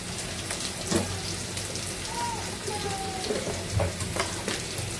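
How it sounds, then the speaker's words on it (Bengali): Onions and green chilies sizzling in a hot pan for a fish curry, a steady crackling fry with occasional louder pops. "মাছের জন্য, তরকারির জন্য আমি পেঁয়াজ আর কাঁচামরিচ দিছি, একটু ভেজে নিচ্ছি"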